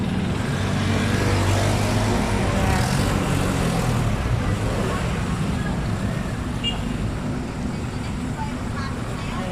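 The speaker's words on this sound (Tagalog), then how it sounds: "Ang dami sasakyan dito." Busy road traffic with many vehicles passing at night, a continuous roar of engines and tyres close by with no break, while a person speaks over it.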